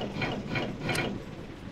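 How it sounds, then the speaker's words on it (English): Aircraft engine starters cranking on a Mitsubishi G4M2E Betty bomber in the game Stormworks, a steady mechanical ratcheting whir with rhythmic pulses, moderately loud and close, with no talking over it. "Engine 1 starter. Engine 2 starter."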